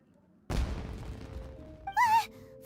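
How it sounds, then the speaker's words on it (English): A single explosive fireworks blast in the video game Genshin Impact, set in Inazuma, bursts in sharply and trails off in a long rumbling decay, followed by a short vocal gasp. "It sounded like fireworks."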